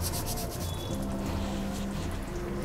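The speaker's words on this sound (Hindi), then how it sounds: "कसूरी मेथी को क्रश करके डालेंगे" Dried fenugreek leaves (kasuri methi) crushed between the hands over a pot of dal makhani: a continuous dry, gritty rubbing, close and steady, with no pauses.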